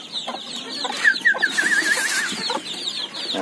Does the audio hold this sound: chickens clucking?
yes